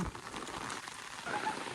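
First rain of the season pattering on surfaces outdoors in a Maharashtra village, a soft, steady wash of drops heard at moderate distance for a brief moment, fairly faint and without speech.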